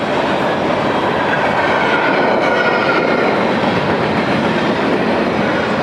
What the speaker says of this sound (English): This train runs daily.